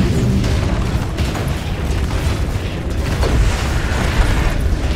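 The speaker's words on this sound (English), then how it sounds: "Dire's bottom tower has fallen." A tower collapses in Dota 2 amid a dense, loud rumble of booming explosions and crashing game effects that carries on for several seconds.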